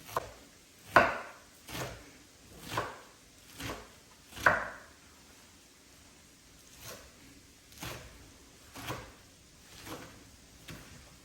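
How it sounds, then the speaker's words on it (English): A knife roughly chopping spinach on a cutting board, about ten separate thuds spaced a second or so apart, close and fairly quiet, with a short lull midway. "I'm gonna rough chop our spinach while the onions are going"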